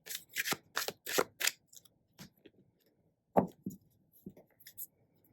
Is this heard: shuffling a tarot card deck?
yes